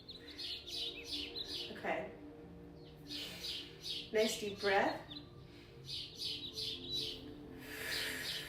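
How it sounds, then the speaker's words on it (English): Birds chirp outdoors in a garden, quick repeated tweets in clusters throughout, fairly clear and close, while someone talks calmly over them. "You hear the birds?"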